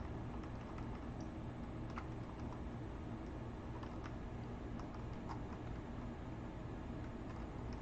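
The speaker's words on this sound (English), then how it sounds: "you guys can hear me typing" Soft, sparse keystrokes on a computer keyboard, faint and irregular, under a steady loud hiss of background noise, no voices.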